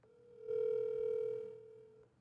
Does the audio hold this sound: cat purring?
no